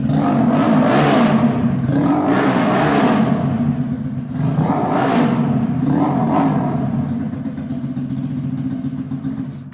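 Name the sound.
straight-piped motorcycle engine revving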